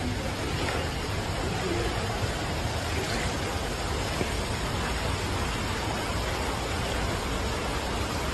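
Heavy short-duration rainfall pours down on a city, a dense, steady hiss of rain hitting surfaces that stays constant and fairly loud throughout, with no voices.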